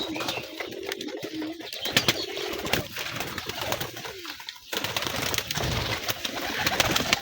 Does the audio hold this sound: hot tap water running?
no